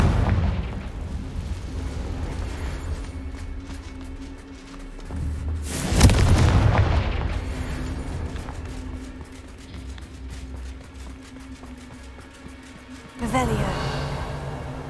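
Two booming blasts from the Confringo explosive spell in Hogwarts Legacy, a heavy burst midway that rumbles off slowly and a second sharp boom near the end, over a backdrop of game ambience and occasional voices.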